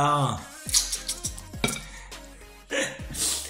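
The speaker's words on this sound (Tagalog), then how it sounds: "Ligpit ka ng plato." Plates and cutlery clatter and clink as dishes are cleared after a meal, with several sharp knocks and scrapes spread across the moment and a voice heard briefly near the start.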